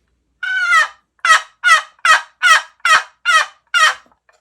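An old wooden turkey call with a worn lid is played in a run of eight yelps. The first is longer and the rest are short and evenly spaced. The strokes are loud and close, with no voices.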